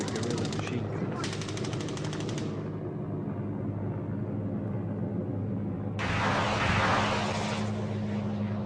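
Guerrilla machine guns fire near the airport at Herat, with two loud rattling bursts separated by a pause, over a steady rumbling drone from circling helicopters.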